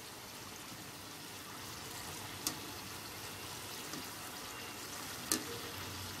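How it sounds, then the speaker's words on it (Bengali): Coconut puli pitha fry in hot oil, a continuous soft bubbling sizzle with a couple of brief sharp clicks, close and fairly quiet. "পিঠাগুলো ভাজা হচ্ছে মনে হয় ওই নিচের"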